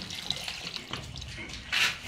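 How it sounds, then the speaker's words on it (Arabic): Water being poured to water plants, a close, splashing and trickling flow that ends in a brief louder gush. "خد المية دي"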